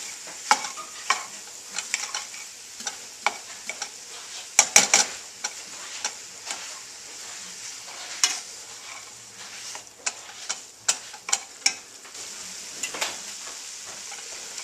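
Ground meat frying in a pan for an Amish Yumasetta casserole, with a steady close sizzle punctuated by sharp scrapes and clacks as a utensil stirs and breaks up the clumps.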